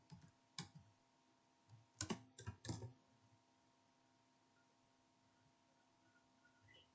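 Typing on a computer keyboard while entering a network command: a few isolated key clicks, then a quick burst of several close taps around the middle, followed by quiet room hum.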